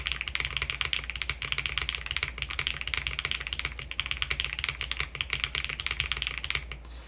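Rapid typing on a Ducky OK-M mechanical keyboard, a steady stream of close, crisp key clacks with occasional deeper spacebar hits, no voices over it.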